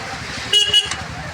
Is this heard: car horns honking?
yes